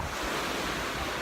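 Ocean surf rolls onto a beach where parasailing is underway, a steady, loud wash of breaking waves mixed with wind buffeting the microphone, with no voices.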